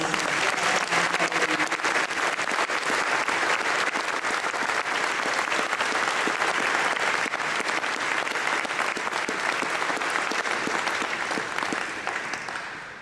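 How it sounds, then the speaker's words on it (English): A large audience claps steadily at a 2013 Hall of Fame induction ceremony, a dense, loud wash of applause holding evenly for about thirteen seconds before starting to taper at the very end. "Please give a warm round of applause."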